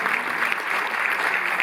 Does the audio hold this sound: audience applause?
yes